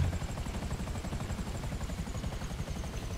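Steady rotor drone of a helicopter in GTA 5 Online, low and continuous throughout, with a faint high whine above and no talking.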